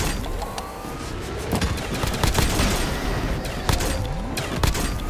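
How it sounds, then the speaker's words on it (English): Rapid automatic gunfire from the War Machine weapon in Call of Duty Zombies on the Space Tower map, a dense loud barrage of repeated shots and explosive bursts filling the whole stretch, with no talking. "now shoot with your war machine."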